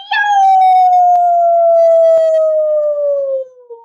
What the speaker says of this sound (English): It was all of those sounds together. Yip, yap, yip, yow!